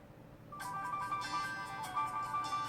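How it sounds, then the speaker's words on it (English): A notification chime from a No.1 D5 smartwatch plays alone, a short series of bright electronic tones that begin after a brief quiet and hold steady at moderate volume to the end. "The notification sound, so that's what I want to see."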